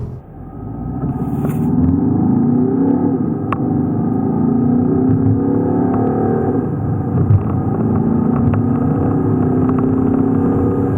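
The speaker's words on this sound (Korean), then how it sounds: "308 GT의 가속력에 대해서도 한번 알아보시죠" A Peugeot 308 GT accelerates hard during a performance test, its engine droning loud and close as it climbs steadily through the revs over several seconds with no talking.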